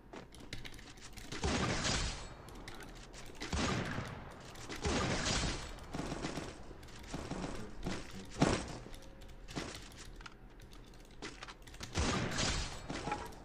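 Gunfire in a shooting video game: repeated bursts of rapid shots at irregular intervals, loud and close, with some clatter and footsteps between bursts and no talk over them.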